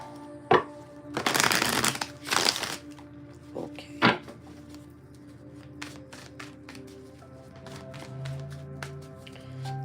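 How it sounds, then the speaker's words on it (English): A deck of tarot cards is shuffled close up in several quick riffling bursts, crisp and papery, followed by softer handling and sliding of cards in a quiet indoor room. "Let's get a good shuffle in."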